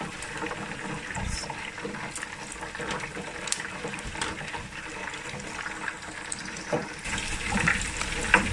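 Liquid draining from a pot of home-made chicken wings, a steady close splashing flow that grows a little stronger toward the end.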